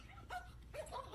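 A puppy gives short whimpering yips and barks, two or three quick high calls heard fairly faintly and close by, with no talking over them.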